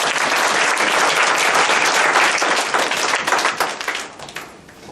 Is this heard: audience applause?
yes